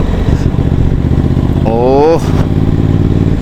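A Cape 1200 motorcycle cruising steadily in third gear, its engine humming in a continuous low drone with a brief rising whine, while a rider talks over it.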